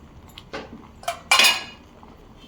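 A plate clinks down onto a cooking pot of simmering avarekai beans and greens, a few light metallic chinks followed by one louder clatter, close and alone without talk.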